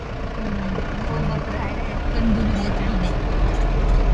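A vehicle from Washim passes on the road during a house-moving trip from Hingoli to Bhandara, heard as a steady, close engine and road rumble that swells slightly near the end, with voices underneath.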